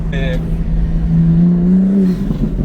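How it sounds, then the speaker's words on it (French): A car engine hums and rises in pitch as it revs, loud and close on a street in Brussels, with a brief voice-like tone at the start. "La voiture fait peut-être du bruit"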